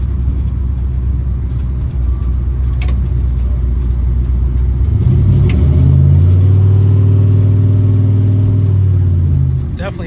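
1960 Chevrolet El Camino engine while driving, a steady deep rumble at cruising speed that swells into a louder, rising drone as it accelerates, with road noise and a couple of brief clicks.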